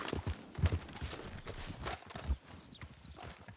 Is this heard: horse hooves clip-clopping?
yes